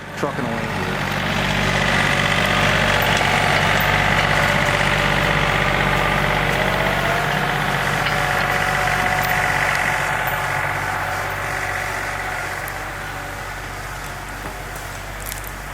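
John Deere 3025e compact tractor engine running steadily while pushing pines, a continuous close mechanical drone and hum that holds for the whole stretch and eases slightly near the end.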